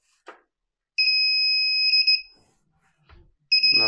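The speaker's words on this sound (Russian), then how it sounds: "Включим сигнализатор. Так вот, идет поклевка" An electronic bite alarm on a winter bream fishing rig gives loud, clean two-tone electronic beeps. A first burst lasts about a second, then a shorter burst follows, with a few faint handling knocks and rustles in between.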